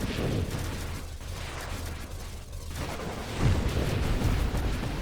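Dense, continuous booming explosions in the space shooter Nova Drift on a Maelstrom Swarm run, rumbling and crackling without pause and swelling louder toward the end.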